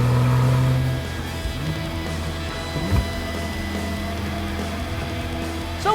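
A 2017 Porsche 911 Turbo (991.2) engine with a brief rev at the start that drops into a steady, moderately loud drone, plus a short bump partway through.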